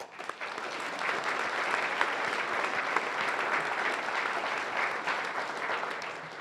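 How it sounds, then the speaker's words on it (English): Applause from an audience at a City Club civic forum in Portland: steady, dense clapping from a large crowd, sustained evenly throughout without voices. "Please join me in a warm round of applause for all of them."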